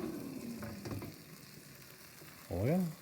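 Chicken frying in an air fryer, a soft continuous sizzle and crackle with faint clinks, followed near the end by a short voice speaking over it.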